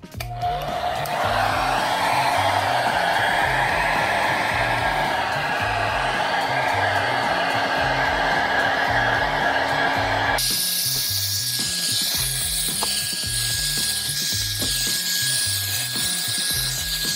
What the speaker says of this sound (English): All right, so I used the blow dryer for about 3 to 4 minutes